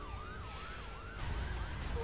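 A police car siren wails in the driving video game The Crew, a quick repeating rise-and-fall tone sounding over steady engine and road noise, fairly faint in the mix.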